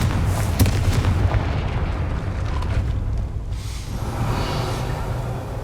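The Confringo spell goes off in Hogwarts Legacy with a deep rumbling blast at a gate, a dense low boom that rolls on steadily and then fades into a softer hissing wash.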